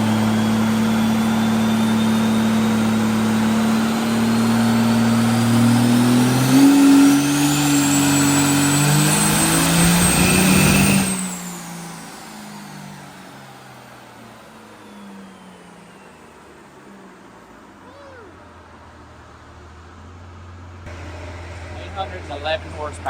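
A 1400hp 6.7 Cummins diesel street truck running nitrous revs hard on a dyno, its engine note climbing steadily and loudly before cutting off abruptly midway and dropping to a low idle rumble and whine.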